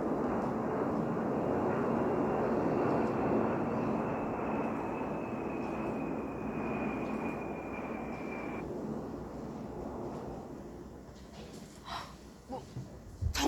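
An airplane taking off or landing gives a loud, steady broadband roar that holds for most of the stretch, then thins and fades toward the end, with a few brief sharper noises at the close.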